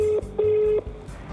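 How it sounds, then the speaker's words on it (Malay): Telephone keypad tones sound while a call is placed to the boss of Stallion: a few clear, evenly pitched beeps, some long and some short, close and loud, with small clicks between them. "kita telefon dulu bos Stallion"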